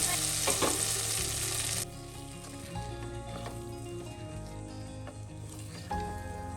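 Chopped onion and five or six unpeeled crushed garlic cloves fry in a pan, a loud bright sizzle that drops to a quieter steady crackle after a couple of seconds, with sustained tonal music running underneath.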